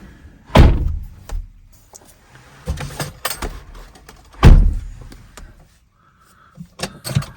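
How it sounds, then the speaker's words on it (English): A door being shut during a vehicle repair on a 453-series car, giving two heavy thunks a few seconds apart, with a short electric whir between them. "If I close the door."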